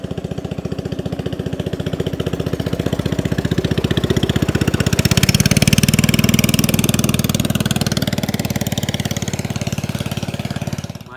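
A boat engine runs steadily throughout on a village waterway at Laburan, Paser Belengkong, a dense mid-low drone that swells slightly in the middle and then eases, with no talk.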